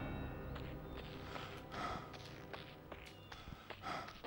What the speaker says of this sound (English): I love how he's panting because he's so overweight